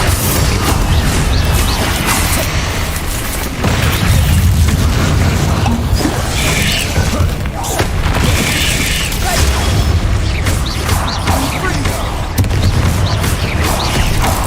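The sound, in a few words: spell explosions (Bombarda, Confringo) in Hogwarts Legacy video game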